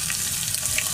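Egg frying in a pan with onion, chilli, turmeric, coriander and spice powders gives a brief, steady, hissing sizzle, moderately loud and continuous with no talking.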